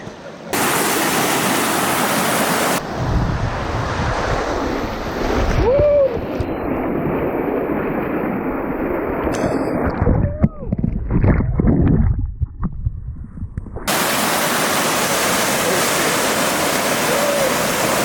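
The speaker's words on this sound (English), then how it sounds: "This is the water slide of the Romans." Loud rushing, splashing water roars close by on a Roman water slide, cutting in and out abruptly, with a few voices and shouts heard over it midway.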